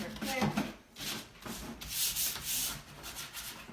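Hand sanding of painted furniture, repeated rough back-and-forth rubbing strokes of sandpaper on a wooden surface, close and continuous with a steady rhythm and no talk.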